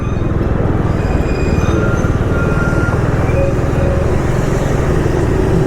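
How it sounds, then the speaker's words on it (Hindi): A train running alongside a road in India, heard as a loud, steady rumble with continuous wheel and engine noise that holds throughout. "साथ साथ ट्रेन चलती है और साथ साथ ही रोड।"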